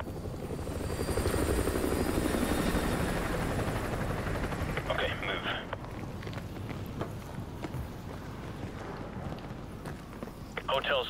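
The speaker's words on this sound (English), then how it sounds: "Enemy helo patrolling the perimeter." An enemy helicopter patrols in the Call of Duty Modern Warfare 2 Gulag mission, its rotor drone loud and steady at first, then easing under scattered movement and footstep sounds, with voices talking over it.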